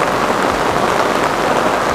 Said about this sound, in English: We are feeling nice because it's raining and there was too much.